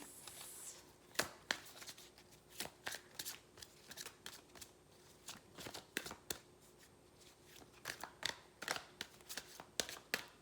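Angel guidance cards being shuffled by hand in repeated crisp riffling bursts, close and fairly quiet, with short pauses between, no talking.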